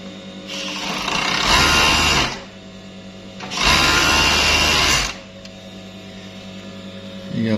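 A Siruba 747 four-thread overlock sewing machine runs empty in two loud, steady bursts of about two seconds each, whirring at high speed, with a low mains hum and quiet idle between them.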